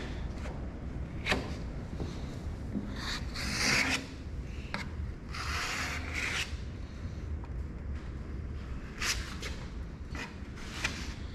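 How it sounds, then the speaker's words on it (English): Filler being sanded by hand on the body of a 1984 Jeep CJ7, close rasping strokes in uneven bursts over a low background hum, with no one speaking. "This stuff sands really bad, so it's not gonna get like smooth with this stuff."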